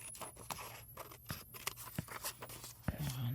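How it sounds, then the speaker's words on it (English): Paper is trimmed for handmade hanging tags with soft, close snips and crisp scraping cuts at a low volume, with no talking. "let me cut this down a little bit here."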